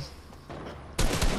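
Rapid minigun fire in a video game, shredding cardboard boxes: a quieter buzz gives way to a sudden loud, dense burst of continuous shots in the final half second.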